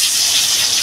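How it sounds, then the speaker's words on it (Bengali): Rohu fish pieces frying in hot oil, a dense continuous hiss that holds steady and loud for the whole short moment, with no voices. "আমি এটা রুই মাছ ভাজছি।"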